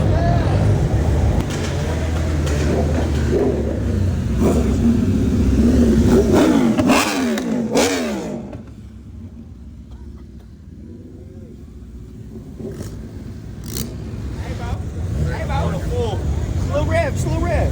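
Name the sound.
car engines revving at a car meet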